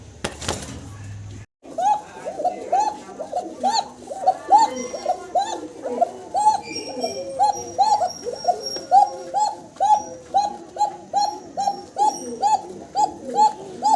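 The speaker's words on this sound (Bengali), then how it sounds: "মাশাআল্লাহ, ককার ডাক শুনাইতেছি আপনাদের।" A pair of kokka pigeons coo in a steady, repeating rhythm close by, with soft chirps and rustling around them after a brief opening noise.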